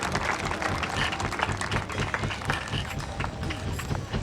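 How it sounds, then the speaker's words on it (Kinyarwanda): Applause from a crowd at a church prayer gathering for the nation, steady dense clapping filling the whole stretch, loud and continuous without pauses. "Amashyi menshi ku Mana yacu."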